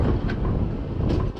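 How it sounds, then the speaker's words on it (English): Loud, continuous rumble of wooden-bodied vintage train carriages on the Glenbrook Vintage Railway in New Zealand rolling over steel rail joints, with a heavy close-up roar and faint periodic clacks rising briefly. "Here is the wonderful sound of the train, which continues to arrive as each compartment crosses each steel bar joints"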